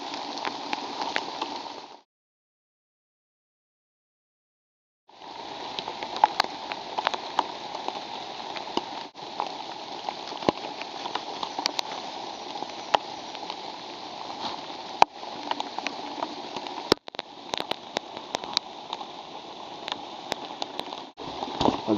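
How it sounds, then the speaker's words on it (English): Steady rain falls at a base camp in the woods, a continuous close hiss of drops with sharper patters on surfaces, broken by one short silent gap and then going on to the end. "Mate, it's a rainy day, guys"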